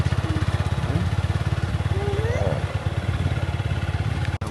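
A motorcycle cruises along a jungle road on safari, its engine giving a steady, even pulsing drone throughout while people talk over it.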